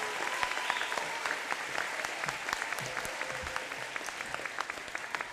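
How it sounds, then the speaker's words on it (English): Audience applause at a school moving-on ceremony, a sustained even wash of many hands clapping at a moderate distance, steady for several seconds without talk. "Round of applause."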